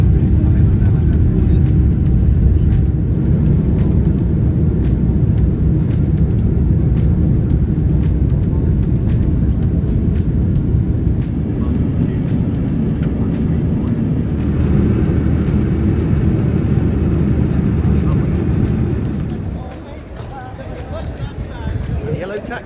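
Cabin of an airliner flying from London Gatwick to New York: a loud, steady engine and air roar with faint periodic clicks, dropping in level near the end.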